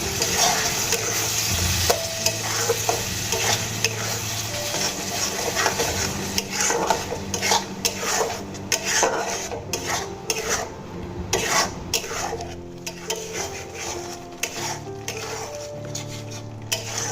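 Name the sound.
tomato paste being stirred and fried with spices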